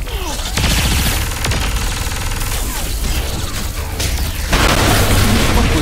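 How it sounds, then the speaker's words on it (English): A bomb blast in Saints Row IV lets out a loud, continuous roar of booms and crackling detonations that does not let up, and the rumble grows heavier toward the end. "This looks important. Let's blow it up."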